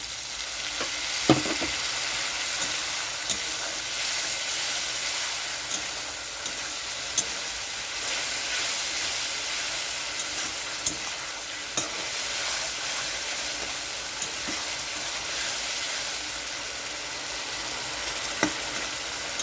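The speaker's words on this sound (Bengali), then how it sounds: "তো এখানে আরও একটু জল দিয়ে দিচ্ছি মশলাটা কষানোর জন্য" Potato masala sizzles and spatters steadily in a pan after a splash of water is added, a constant close hiss punctuated by occasional soft stirring taps, with no talking.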